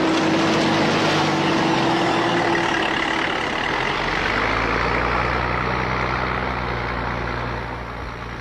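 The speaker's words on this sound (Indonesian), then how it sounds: "laterit diciduk dan diangkut dengan truk ke jalan yang sedang dikerjakan, meter demi meter" A truck hauling laterite soil for road building in Sumatera rumbles with a loud, steady engine drone that holds for several seconds before easing slightly toward the end.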